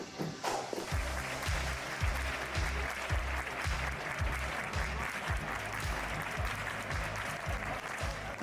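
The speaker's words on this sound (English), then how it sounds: "They support Betis clapping hands in the flamenco music way." Real Betis football fans in a stadium clap in flamenco rhythm, a large crowd's sharp, synchronized claps beating a regular repeating pattern over a constant roar of crowd noise.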